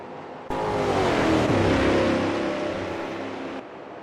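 Several stock cars in a racing game roar down the main straight of the Goiania circuit in a Brazilian StockCar Series race, a loud, sustained engine drone that swells as the pack passes and then cuts off abruptly.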